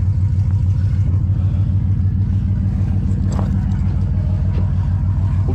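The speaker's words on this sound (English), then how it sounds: "We'll give her a couple cold revs." Cold truck engine with open headers, a modern pickup, idling with a loud, steady low rumble and a throbbing exhaust pulse, close and continuous, with only slight rises that may be brief revs.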